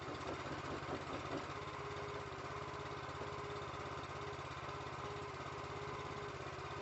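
Anderson IFX-660 engine idling at a steady, even drone, close and continuous with no talk over it.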